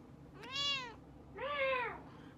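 Two distinct kitten meows, each rising then falling in pitch, close and fairly loud over a quiet indoor background with a short pause between them.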